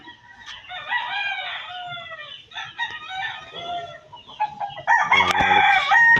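Roosters crow close by, several drawn-out cock-a-doodle calls overlapping, with clucking hens around and a sharp louder crow near the end.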